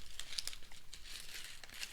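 Thin plastic candy wrapper crinkling and crackling as it is pulled at and opened, a close, continuous rustle with sharp small crackles throughout.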